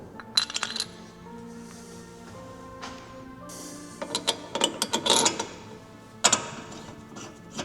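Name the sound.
Porsche GT4 RS brake pads being fitted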